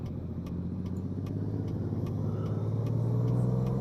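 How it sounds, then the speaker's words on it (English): A steady, close Kenworth K100E heavy truck engine idles and hums with a low, even rumble, faint ticking clicks over the top, gradually growing a little louder. "So we'll have a little listen to this lovely motor."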